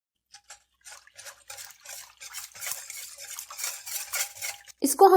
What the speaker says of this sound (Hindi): इसको हम बहुत अच्छे से मिक्स कर लेंगे ताकि गुठलियां वगैरह ना रहें।